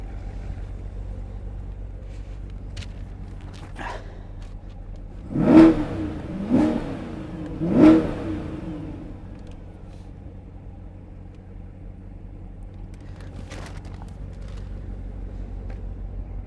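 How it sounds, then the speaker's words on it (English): Corvette C8 with the factory performance exhaust gives three short, sharp revs in quick succession over a low steady idle, loud and nearby, then settles back to idling. "Here's the factory performance exhaust."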